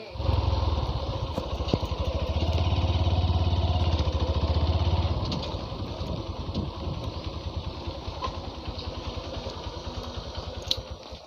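A motorcycle engine runs steadily nearby, a loud, continuous idle-like drone that eases slightly in volume partway through, with no talking over it.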